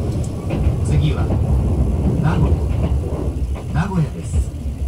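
Inside a Kintetsu Urban Liner limited express bound for Nagoya, a steady low rumble of the running train continues throughout beneath an onboard voice announcement.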